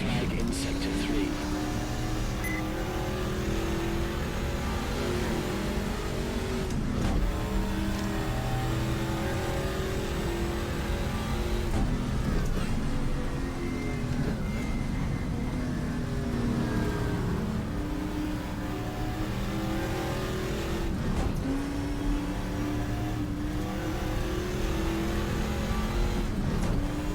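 A simulated race car engine roars steadily through a long stint at the Österreichring in the GTR2 racing game, revving up and down with gear shifts, continuous and loud, with occasional talk over it.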